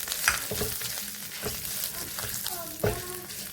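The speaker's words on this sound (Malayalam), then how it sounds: "ശകലം അരിയിട്ട് ഒന്ന് പൊട്ടിക്കട്ടെ." Rice grains, dried red chillies, green chillies and curry leaves sizzle in hot oil for a South Indian thoran, a steady crackling fry broken by sharp spatters and the clatter of stirring, close and fairly loud.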